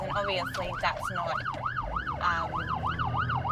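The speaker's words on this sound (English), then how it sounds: "excuse me while I just get out of the way of this ambulance" An ambulance siren wailing in a steady rising-and-falling cycle, loud and close in street traffic on a commute, with a voice speaking briefly over it and road rumble underneath.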